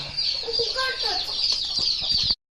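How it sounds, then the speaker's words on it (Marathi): A black hen clucks close by in a steady, continuous run of soft calls over faint background noise, ending abruptly. "ही कोंबडी आहे आमची काली कोंबडी"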